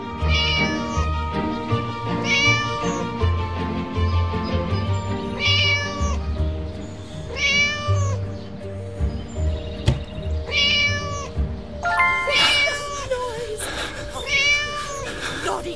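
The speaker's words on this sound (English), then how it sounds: "That naughty cat just vanished." Repeated cat meows from the video game Scary Teacher 3D, about eight distinct cries in a steady rhythm over game music and sound effects, growing louder and more strained near the end.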